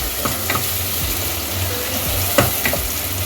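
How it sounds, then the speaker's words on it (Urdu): Chopped onions fry with spices in a pan for aloo keema, producing a continuous close sizzle punctuated by a few stirring knocks. "اب پیاز کو گولڈن براؤن ہونے تک اسے فرائی کر لیں۔"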